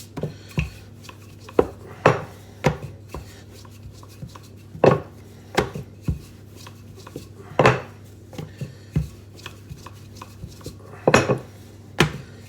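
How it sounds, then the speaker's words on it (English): Quiche Lorraine pastry rolled out with a rolling pin and turned in quarter turns, giving irregular close knocks and soft rubbing scrapes against the worktop. "just turning the pastry quarter turns and keeping the rolling pin the same angle to try and keep a circle"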